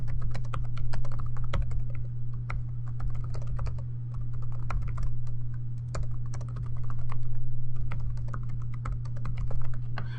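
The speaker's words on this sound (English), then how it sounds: "Note when I'm typing" Rapid, steady clicking of computer keys being typed continuously, with a constant low electrical hum underneath.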